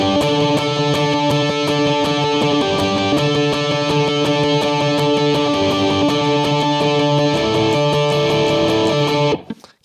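Electric guitar with an effects-laden, slightly distorted tone plays a riff, a steady sustained chordal pattern with shifting notes, loud and close, alone until it cuts off near the end.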